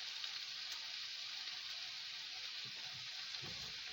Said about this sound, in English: So I'm just going to add a little bit of water.